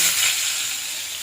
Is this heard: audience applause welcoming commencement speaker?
no